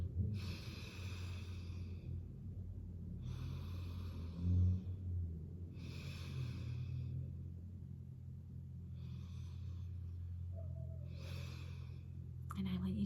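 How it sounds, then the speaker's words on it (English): Slow deep breathing in a calm, close ASMR-style meditation, five drawn-out airy breaths spaced a few seconds apart, soft and intimate over a faint low hum. "I just want you to just take some deep breaths"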